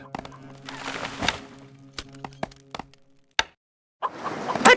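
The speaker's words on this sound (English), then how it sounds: "Constructing siege equipment." Siege equipment being built in the Stronghold Crusader strategy game, a series of sharp wooden thunks and knocks with a brief crack, ringing hammer-like tones, then a short silence before busier game sounds return.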